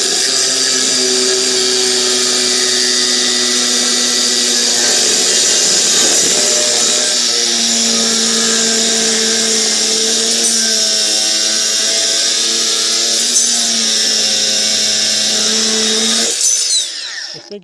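A power saw with a new blade cuts rebar for a building foundation. It makes a loud, sustained, high-pitched metallic whine with shifting grinding tones for about sixteen seconds, then stops sharply. No one speaks.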